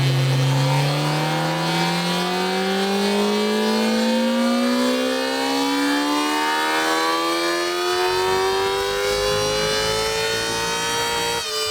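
Stock Kawasaki ZX-10R superbike engine on a dyno pull, revving steadily higher in one long climbing wail that holds loud and close, with the tone easing slightly near the end.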